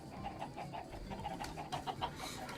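A modded Minecraft chicken gives short, repeated clucks in a quick, uneven rhythm, fairly faint over a low game background with no one speaking.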